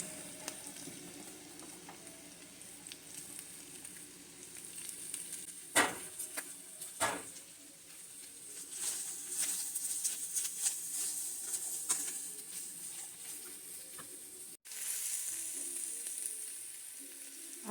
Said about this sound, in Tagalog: Then fried also the vegetables. I'll mix everything guys. With carrots and cabbage.